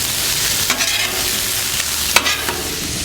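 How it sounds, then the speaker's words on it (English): Ribeye steak and onions fry on a Blackstone griddle in a steady, close, loud sizzle, with a few brief scrapes from stirring the meat over about three seconds. "The steak cooks very quickly and it smells absolutely glorious."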